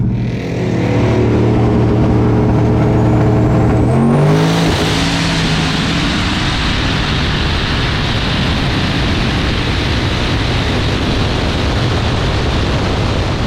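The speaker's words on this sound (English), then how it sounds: "I'm gonna blip the limiter every time" A race car engine at Tulsa Raceway Park blips against the rev limiter, a loud harsh buzzing note that rises and then gives way to a roaring, broadband engine rush lasting to the end, close and with no talking.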